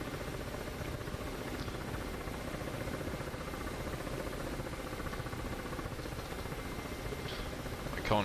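A helicopter flying in a video game flight simulator, a constant even rotor and engine drone filling the whole stretch at moderate level, with a small click near the end and no speech.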